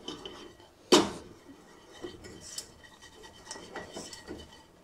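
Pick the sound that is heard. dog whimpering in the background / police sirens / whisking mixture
whisking mixture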